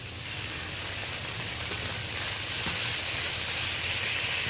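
Ginger-garlic paste frying in a pan with softened, reddish onion and tomato for an egg and pointed gourd curry gives off a steady, loud sizzling hiss that holds unbroken throughout.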